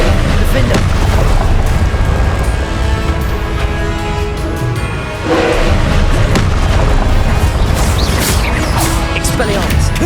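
Repeated loud booming blasts from Confringo spells in a Hogwarts video game, dense and continuous with brief lulls, mixed with game music and effects.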